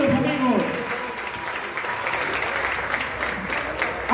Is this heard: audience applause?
yes